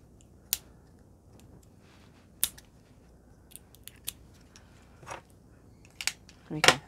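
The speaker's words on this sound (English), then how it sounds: "Oh, I've got some scissors." Sharp scissor snips click at irregular intervals, separated by quiet stretches, with a rustle of packaging near the end.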